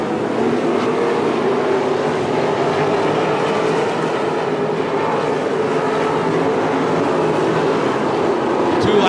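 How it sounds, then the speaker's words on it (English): Pack of 305 sprint cars racing side by side at Attica Raceway Park dirt oval, a loud, continuous engine roar with steady droning tone that stays near and intense for the whole stretch, ending with a brief sharp knock. "Cars racing side by side in front of Paul Weaver."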